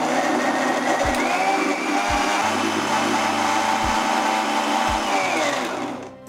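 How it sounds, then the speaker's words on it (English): A blender whirs loudly and continuously, blending a guava smoothie with coconut milk, curds and vanilla ice cream, then winds down at the end, with a few low thumps along the way. "And we will blend it in a blender till it's smooth."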